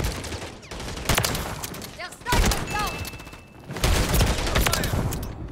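Gunfire from a Lockwood 680 rifle in Call of Duty MW3, several sharp single shots in quick succession, loud and close amid other game effects, with talking underneath.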